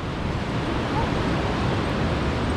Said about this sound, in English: There's another big waterfall coming down over there.